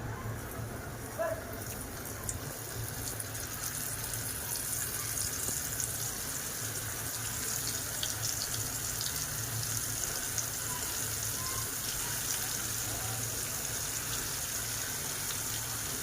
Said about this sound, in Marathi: आता आपण लेकरू मच्छी फ्राय करून घ्या